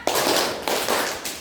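Group hand clapping in a classroom counting game: three sharp, loud bursts of claps in steady rhythm, with no talking.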